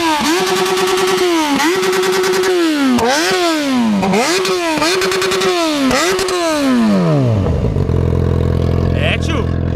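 Yamaha XJ6 motorcycle revved repeatedly with a watermelon jammed over its exhaust pipe, loud rising and falling engine sweeps close by, then settling to a rough idle; no speech over it.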